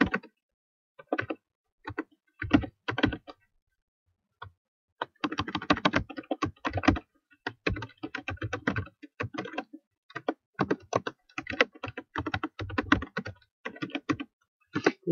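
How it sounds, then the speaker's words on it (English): Bursts of keyboard typing, close and crisp, coming in uneven clusters of rapid key clicks with short pauses between, no voices. "You'd think I'd get better at typing on this keyboard"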